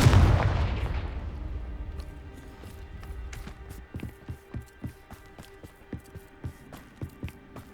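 A Confringo fire spell explodes in Hogwarts Legacy: a loud booming blast at the start that rumbles and fades over a couple of seconds, followed by a steady run of rhythmic thuds.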